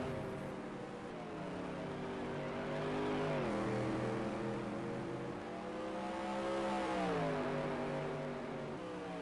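Non-wing supermodified race cars roar around an oval track in a feature race, engines droning and rising and falling in pitch as they sweep past, loud and continuous.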